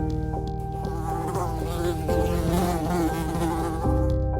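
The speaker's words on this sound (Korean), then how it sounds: "사방에서 파리떼가 몰려들었어요." A dense swarm of flies buzzing all around, a continuous loud wavering hum with shifting pitches, close and without voices.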